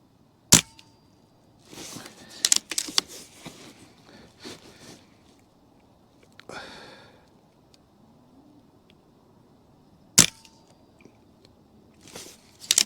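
A BRK Ghost .177 air pistol fired at targets, two sharp, loud cracks several seconds apart, with quieter handling clatter and mechanical clicks in between.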